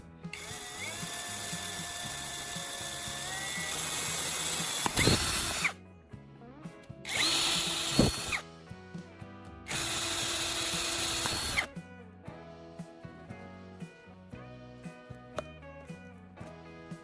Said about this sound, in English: I'll mark 3 points on the lid and drill holes